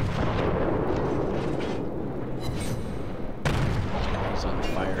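Naval gunfire from warships in World of Warships, a dense, continuous rumble of cannon blasts and booming explosions that stays loud throughout, with a brief break in the din partway through.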